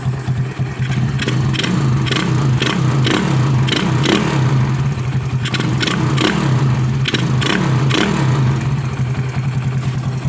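A freshly overhauled Kawasaki Fury 138cc motorcycle engine runs cold, a steady close mid-pitched drone with a regular pulsing beat and repeated sharper bursts throughout, no talking.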